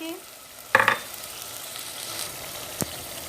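Ginger garlic paste hits hot oil with fried onions, red chili powder and green chilies in a frying pan for aloo gosht, giving a sudden loud sizzle, then a quieter steady frying with a spoon clink.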